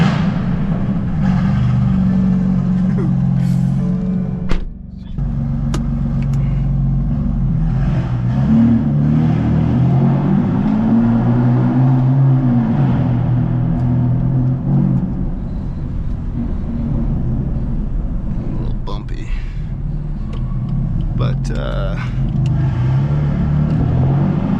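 A BMW F82 M4 engine starts and rumbles loudly nearby, rising and falling in pitch with several revs over a steady deep idle, with scattered clicks and knocks.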